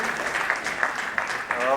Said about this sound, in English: Can I have a louder round of applause?